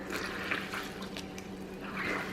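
A small, worn cleaning sponge is dropped into hot water, giving a steady, close wash of sloshing and gurgling liquid throughout, with no talk.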